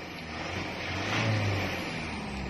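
A Mitsubishi Montero Sport engine, treated with an additive during servicing, is revved once in a short swell that rises and falls back to a steady idle hum, close by with no talk.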